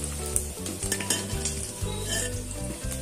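Fish lightly frying in a pan gives a continuous sizzle broken by repeated stirring scrapes and clicks, with a steady low hum underneath and no talk.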